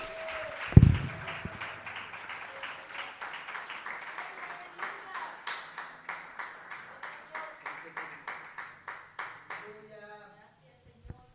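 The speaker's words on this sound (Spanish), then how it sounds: "Dele un fuerte aplauso al Rey de la Gloria." A church congregation claps together in a loud sustained burst of applause that begins with a sharp thump, then settles into steady rhythmic clapping before fading and stopping.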